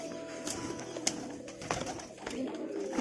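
Pigeons coo softly nearby after feeding, low murmuring calls with a few brief wing flutters and sharp taps, fairly quiet overall.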